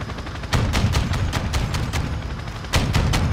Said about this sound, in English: Just firing away wildly.